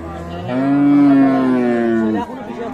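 A single loud, drawn-out moo from a cow nearby at a cattle market in Dinajpur, Bangladesh, lasting nearly two seconds before cutting off into faint background noise.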